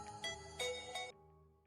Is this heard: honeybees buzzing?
no